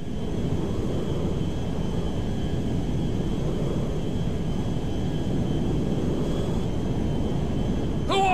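A jet aircraft flying in Grand Theft Auto V, heard as a steady, loud engine roar and rumble that holds unbroken throughout, with no talking.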